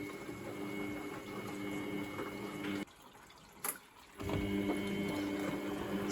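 Water pours steadily into the drum of a washing machine that is not filling properly, a continuous rushing flow that cuts out briefly midway and then resumes at full strength.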